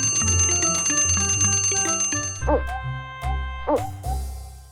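A cartoon alarm clock rings with bright, tinny bell strikes, followed by a few quick chiming hoots, all clear and close with no talk over them.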